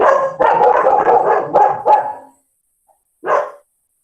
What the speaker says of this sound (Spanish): es que estos perros son muy guaguareros